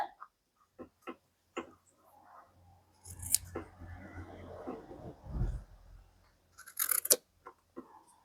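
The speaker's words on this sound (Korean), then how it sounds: "목둘레선을 잘라줍니다" Scissors cutting along the neckline of a paper sewing pattern, close sharp snips spaced irregularly with soft rustling and handling sounds between cuts.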